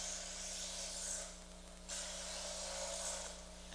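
Knife blade pulled quickly through the slots of a Chef's Choice 310 electric sharpener, a steady motor hum beneath continuous gritty grinding that dips briefly midway, then resumes, close and loud with no voices.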